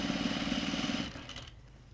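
A sewing machine stitches a neckline seam on an Inman top, running in a steady, rapid mechanical whir for about a second before stopping and leaving a quiet hum, with no talking.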